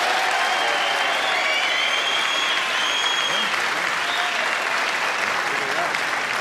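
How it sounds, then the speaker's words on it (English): Steady, full studio audience applause on a late-night television talk show's anniversary broadcast, a dense continuous clapping that holds at an even level throughout with faint voices mixed in. "those of you in favor of re-electing President Nixon, applaud now."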